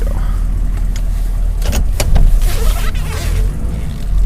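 A 1994 Chevy 6.5 turbo diesel truck with a new transmission and new turbo drives on a snowy road, a loud steady engine rumble heard from inside the cab with brief mechanical clunks, and no talk.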